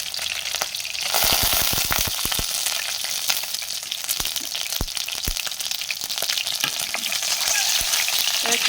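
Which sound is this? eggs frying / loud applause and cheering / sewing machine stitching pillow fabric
eggs frying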